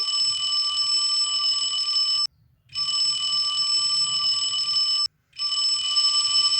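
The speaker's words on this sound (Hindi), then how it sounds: "अरे ये क्या लगता है, अलार्म बज रहा है" An electronic alarm rings in long, steady, high-pitched bursts, three stretches separated by brief silent pauses, loud and close.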